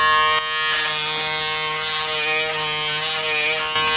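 A Braun Series 6 electric shaver buzzes steadily and close up for about four seconds, its motor hum constant with slight shifts as the head moves across stubble.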